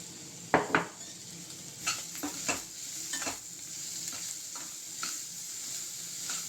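Egg fried rice being stirred in a frying pan, with soft sizzling under a series of close, sharp clinks and scrapes of the spoon against the pan at irregular intervals.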